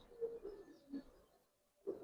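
Pigeons coo in a loft housing Giribaz and coloured fancy pigeons, with three or four soft, low calls rising and fading against a quiet room.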